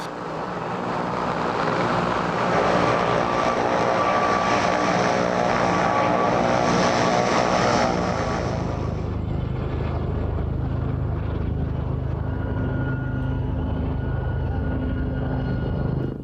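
Lynx and four Gazelle helicopters of the Blue Eagles display team fly at a British airshow, their loud rotor and engine roar filling the air before easing off as they move away.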